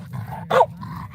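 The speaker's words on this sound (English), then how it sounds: "buddy, no barking" A single short dog bark rings out nearby at moderate volume, standing out briefly over a low steady background hum in an indoor room.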